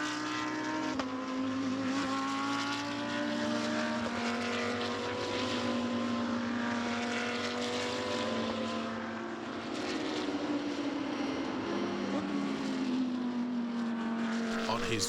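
Audi R8 LMS race cars run at Sepang International Circuit in Malaysia. Loud, sustained engine drones rise and fall in pitch as the cars pass along the back straight, with a commentator talking over the noise throughout.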